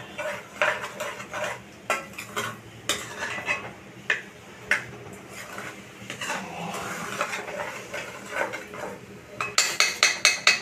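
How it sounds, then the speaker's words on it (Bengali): A spoon stirring kheer, a milk pudding, in a pot, scraping and clinking against the metal in an irregular rhythm with a faint simmer beneath, rising to a quick burst of sharper clinks at the end. "ক্ষীরটাকে বারবার নাড়তে হবে।"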